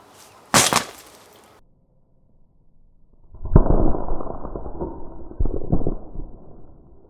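A rock strikes a Tesla Model 3 windshield with one sharp crack and the glass breaks. Another sharp impact comes first, then after a quiet gap a louder crunching burst of breaking glass follows, with a few more cracks trailing off.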